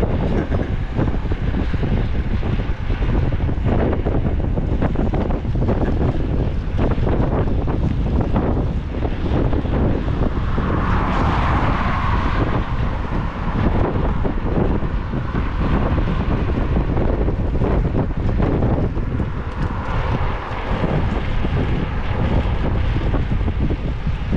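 Heavy wind buffets the microphone while riding a moped, a loud continuous roar and rumble that surges and fades slightly over the ride, with no talk.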